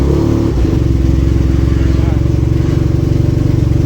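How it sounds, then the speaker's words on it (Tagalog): A motorcycle engine idles steadily right after starting, a close, loud, even mechanical throb that continues without pause, with a voice talking over it. "naka-start na yung makina ko, yan na yung reading."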